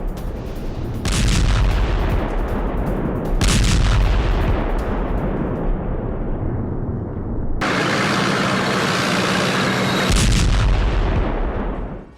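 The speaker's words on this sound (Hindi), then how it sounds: "एक और बड़ी खबर, बाखमुत में यूक्रेन की आर्टिलरी स्ट्राइक हुई है।" Artillery shelling in Bakhmut during the war in Ukraine: heavy, loud booms and rumbling blasts recur every few seconds over a continuous roar, close and powerful, with no voices.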